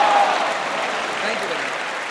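An audience claps at a Shia vocal contest finale in London, a broad, sustained wash of applause from many people in a hall, steady and fairly loud, with a brief tone at the start.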